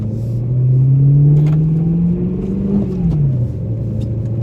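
A rear-wheel-drive BMW M3 V8 revs on snow, its close, loud engine drone swelling and dipping in pitch over several seconds, with no talking.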